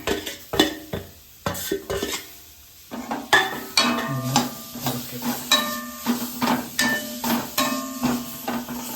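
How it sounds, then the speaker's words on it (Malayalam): A knife chops a tomato into large pieces on a board in a home kitchen while chicken curry is being made. Sharp, regular taps come close together over a soft, steady sizzle, with no talking. "നമ്മൾ ഒരു തക്കാളി എടുത്തിട്ടുണ്ടായിരുന്നു എനിക്കൊരു വലിയതായിട്ട് അരിഞ്ഞേക്കാം അങ്ങോട്ട് ചേർക്കാം"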